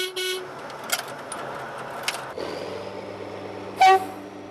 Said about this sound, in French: Démarrage en douceur jusqu'à l'aiguille de la voie de service.